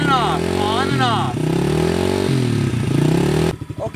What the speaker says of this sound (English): you can see that Timothy is practicing his throttle control. So very slowly, he's going on and off